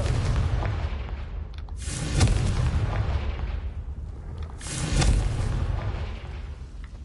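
Two deep, rumbling explosions from the Confringo spell in the video game Hogwarts Legacy boom a few seconds apart, each swelling and fading over a continuous low background roar.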